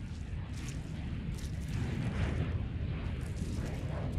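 Missile strike explosions in the pre-alpha war game Direct Contact, set in Afghanistan, roll out as a sustained, heavy rumbling boom that swells and churns for several seconds with no talking over it.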